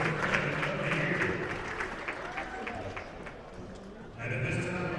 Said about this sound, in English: Let's hear a round of applause and congratulating Jay Boyd